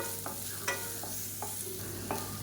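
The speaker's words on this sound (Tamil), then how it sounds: "இப்போ வெங்காயம் ஓரளவுக்கு நல்லா வதங்கிடுச்சு" Sliced large onions sautéing in a pan, a soft continuous sizzle under a steady low hum, with four or five spaced scraping stir strokes, close and moderate in level.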